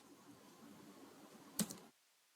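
A single keypress on a computer keyboard, a short sharp click, probably the enter key, heard close against a low room hiss that drops away just after.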